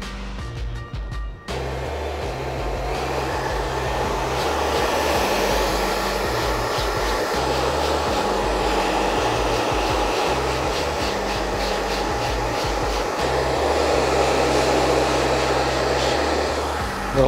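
A hair dryer blows steadily close by as it dries hair after a classic scissor cut, a continuous loud whirring roar with faint brushing texture, starting abruptly after a brief moment of handling.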